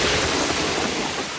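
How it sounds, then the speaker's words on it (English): Cartoon water gushes noisily from a tap and a toilet, a loud, broad, continuous rushing wash that fills the moment with no voices over it. "There's a waterfall coming out of the sink."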